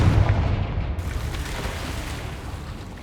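Confringo blasting spell from Hogwarts Legacy: a loud, deep boom right at the start, decaying into a rumbling roar that fades slowly over a few seconds.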